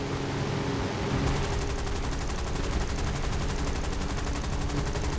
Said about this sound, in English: We do not get the kill despite peppering this guy.